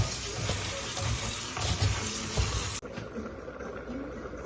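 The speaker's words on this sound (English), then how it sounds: "I'm gonna wash my rice." Rice being washed in water at a kitchen sink for Jamaican seasoned rice, a steady rushing, splashing wash that drops abruptly to a quieter trickle and swish partway through.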